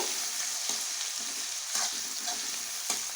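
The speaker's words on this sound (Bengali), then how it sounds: "পেঁয়াজটা একটু ভালো করে ভেজে নেব" Chopped onions sizzle steadily in hot oil in a pan for chicken kosa, a continuous low hiss with occasional faint stirring scrapes and no voices.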